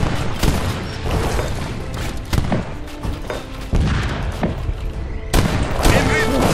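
Massed cannon volleys from a large army in Age of Empires 3 Definitive Edition, loud booming blasts and dense overlapping gunfire crashing repeatedly through a chaotic battle, with a voice talking over parts of it.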